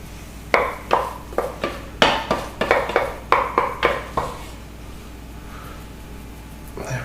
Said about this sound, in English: Just fill any of the gaps that you can see with the larger spoonfuls of mash